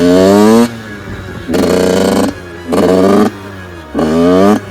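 A motorcycle, ridden while learning to wheelie, revs loudly in third gear in four strong bursts, each followed by a brief drop to idle between pulls.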